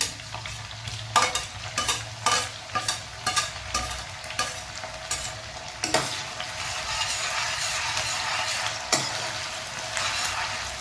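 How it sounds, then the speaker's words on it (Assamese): Ginger garlic paste frying in a pan with cut potatoes, a steady sizzle broken by repeated sharp scrapes and clinks of a spoon stirring, close up and with no talk. "এতিয়া মই আদা নহৰু পেষ্টটো দি দিম"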